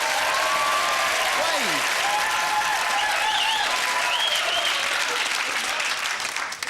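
Studio audience applause at a game show, sustained dense clapping filling the whole stretch, with a host's voice briefly heard over it.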